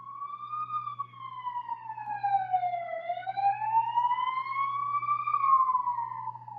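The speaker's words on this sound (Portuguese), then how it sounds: "E passa a ambulância. Vamos deixar passar." An ambulance siren wails past, its pitch sliding smoothly down and back up in a long sweeping cycle, fairly close and steady over a low constant hum.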